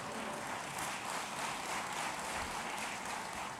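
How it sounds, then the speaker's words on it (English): An inauguration audience applauds in an extra round for mothers, a dense steady wash of clapping that holds at an even level throughout with no voice above it. "moms get an extra round of applause."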